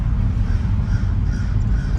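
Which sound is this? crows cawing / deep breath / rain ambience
crows cawing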